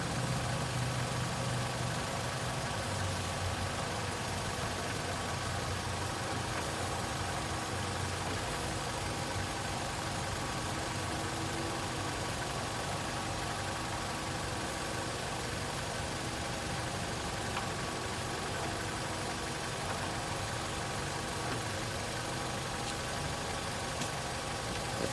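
A Nissan Rogue runs in neutral with its wheels turning during a wheel bearing noise check, a steady continuous engine drone and rumble throughout, with no talking.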